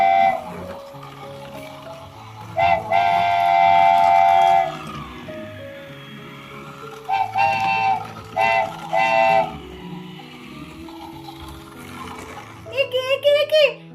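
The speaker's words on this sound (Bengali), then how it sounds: "দেখো কি সুন্দর ট্রেনটা যাচ্ছে, এদিক দিয়ে ওদিক দিয়ে সেদিক দিয়ে" A toy train runs on a homemade roller coaster track, giving bursts of bright electronic tones and whistle-like notes in several separate runs, while children chatter and play nearby.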